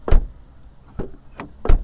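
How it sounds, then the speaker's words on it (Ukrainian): A BMW E39 car door shuts with dull, heavy thuds, four separate impacts spaced roughly half a second apart, close and fairly loud with no talking. "Але ви тільки послухайте, як вони закриваються."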